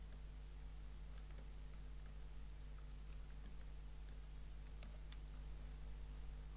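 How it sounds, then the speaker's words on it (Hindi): A channel name is typed on a computer keyboard as quiet, scattered key clicks, faint against a steady low electrical hum. "मैं अपने चैनल का नाम लिख देता हूँ।"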